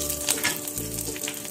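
Dried red chillies frying in hot oil, a steady close sizzle and crackle that runs the whole time with no voices.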